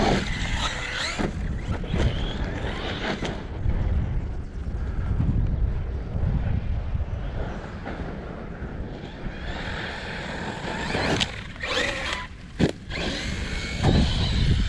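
A large RC monster truck off-road, its drivetrain whining and surging as the differential spins out, with high electric-motor whirs rising and falling close by amid bursts of rattling and impacts.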